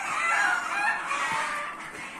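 Fayoumi chickens in a coop raise a dense, continuous chorus of clucking and crowing, loud and close, with no speech.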